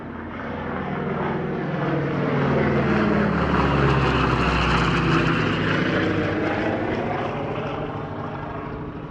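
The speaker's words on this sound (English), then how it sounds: "the world's only airworthy Lockheed Hudson" Lockheed Hudson, the twin-engine propeller bomber from 100 Squadron RAAF, passes at an airshow with a loud, steady engine drone that swells to a peak mid-pass and fades away, with no voices.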